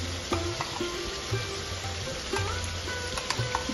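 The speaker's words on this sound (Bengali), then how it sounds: "এবং ভাজা করার সময় খুব সুন্দর একটা মিষ্টি গন্ধ বেরোচ্ছে।" Boneless chicken frying with spice paste for hariyali chicken, a steady close sizzle with scraping stirs of a spoon at intervals throughout, no voices.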